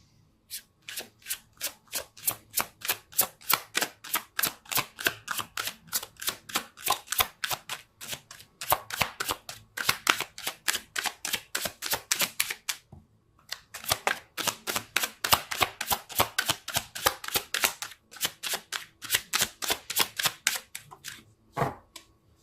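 A deck of tarot cards is shuffled over and over in rapid riffling bursts, close and crisp, with a brief pause midway before the flicking resumes.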